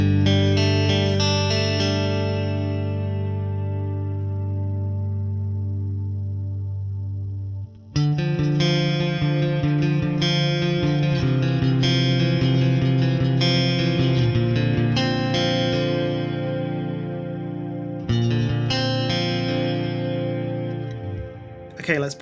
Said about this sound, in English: I want to go for a big reverb.